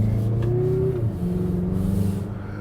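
2024 Mazda CX-50 Turbo GT driving off, a steady low engine drone that rises in pitch as it accelerates and shifts, heard close from inside without talk.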